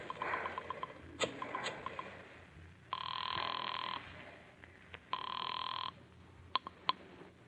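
A telephone rings after a number is dialed, two long electronic ring bursts heard fairly close and alone, with small clicks and handling noises around them.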